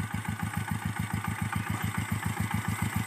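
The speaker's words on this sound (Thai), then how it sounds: "คูโบต้าน้อย รถไถเพื่อทำการเกษตรนะจ๊ะเนาะ" A small Kubota farm tractor runs while preparing soil for planting beds, its engine putting out a steady, fast, low chugging rhythm at moderate distance with no talk over it.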